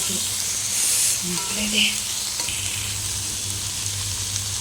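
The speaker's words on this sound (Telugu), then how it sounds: "పాలకూర వేసుకొని ఫ్రై చేసుకోవాలి" Spinach frying in a pan for spinach rice gives a loud, steady close sizzle and hiss, with a few soft stirring scrapes.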